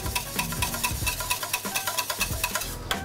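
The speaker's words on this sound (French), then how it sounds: "On remue le tout." A spoon stirs a lamb mixture with lime juice in a bowl, making quick, rhythmic wet scraping and tapping strokes, close and repeated at an even pace, with no talking.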